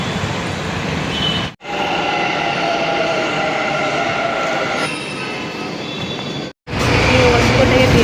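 A metro train rolls along the track, with a loud continuous rumble and wheel squeal, brief dropouts as it passes through sections, and faint tonal whines from the carriage.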